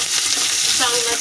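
Finely chopped onion, a generous heap of it, frying in a pan for a rajma masala, giving a steady close sizzle with a brief stirring scrape.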